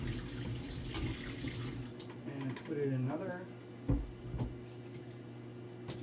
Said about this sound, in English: so I'm going to dump this wash water